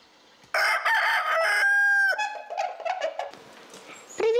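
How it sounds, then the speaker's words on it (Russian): A rooster at a children's ecological station crows loudly and close, one long ringing call that breaks off, then shorter rough calls and a final squawk. "С утра до вечера кукарекает, словно зовет своих жен разделить с ним сытный завтрак, обед или ужин"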